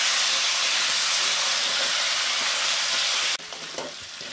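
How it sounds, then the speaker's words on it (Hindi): Potatoes and spices are stirred in a hot frying pan, giving a loud, dense sizzling hiss that cuts off abruptly near the end, leaving a quieter bubbling with a few scrapes. "अब मैं इसमें आलू डाल दूंगी। और अच्छे से मिक्स कर लूंगी।"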